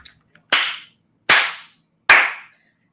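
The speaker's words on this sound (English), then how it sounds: "I don't know why I'm clapping. I just like to clap." Three sharp, loud hand claps spaced evenly, each ringing briefly before fading, with a couple of faint ticks before the first one.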